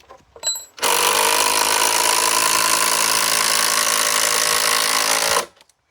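A power drill whirs continuously for about five seconds, driving into the timber base of garden office decking, loud and close with no talk.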